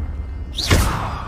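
A Confringo blasting curse fired in Hogwarts Legacy, a rising swoosh followed by a deep thudding impact that quickly fades, a single close burst.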